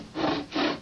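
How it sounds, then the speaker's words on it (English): A hand saw cuts with two even back-and-forth strokes, a rasping wood-on-teeth sound at moderate loudness with no talking. "I'm going to saw a little bit, okay?"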